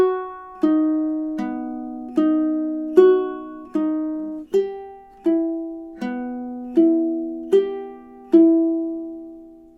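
Ukulele plucks two measures of Fernando Sor's Study in B Minor, a clear, unhurried run of about a dozen separate notes and dyads, each ringing and fading before the next, played alone.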